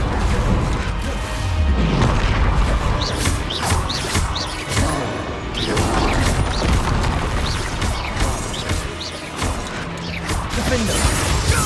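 A Bombarda spell blast in the video game Hogwarts Legacy, with dense crashing and booming impacts amid continuous loud spell-combat effects throughout.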